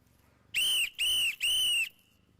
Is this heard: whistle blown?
yes